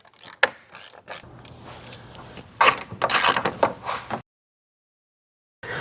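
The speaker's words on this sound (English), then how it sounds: "It's a T20 bit, and we're just going to remove them." A hand driver backs T20 Torx screws out of a Nissan Frontier grille in bursts of quick ratcheting clicks close up, then falls silent before a brief final click.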